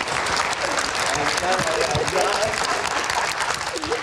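Studio audience on an election-special talk show claps warmly for a panelist, a thick continuous wash of applause with a voice speaking over it partway through.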